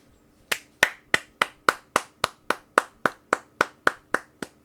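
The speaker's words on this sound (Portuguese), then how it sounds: "Uma salva de palmas, é isso que eu mereço." A single person claps about fifteen times in a steady, even rhythm, each clap crisp, close and sharp against a quiet background.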